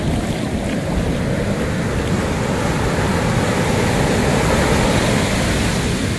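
Big ocean waves crash and roar continuously at Timang Beach in Jogja, a loud, dense surf wash with wind buffeting the microphone throughout.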